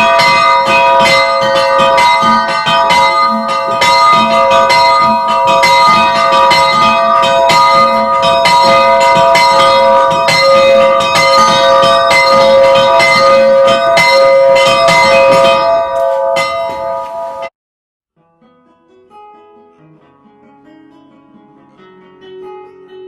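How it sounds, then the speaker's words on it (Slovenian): A chapel bell dedicated to St. Joseph the Worker rings loudly and steadily for about seventeen seconds, then stops abruptly, leaving a faint fading hum. "Dajmo pa še malo pozvonili pri teli kapelci, ki je posvečena Jožefu delovcu."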